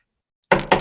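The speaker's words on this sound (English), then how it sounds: "Knock on the door." Two quick, sharp knocks land on a wooden door after a moment of silence, close and crisp, with no voices.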